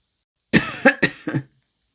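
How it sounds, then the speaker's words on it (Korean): An old man gives four harsh coughs close together in two quick pairs, loud and near, in otherwise silent surroundings. "갑작스럽게 심한 기침을 내뱉는 노인을 보며"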